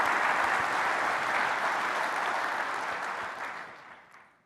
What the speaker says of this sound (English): So let's give them a big round of applause and huge thanks for everything they do every day.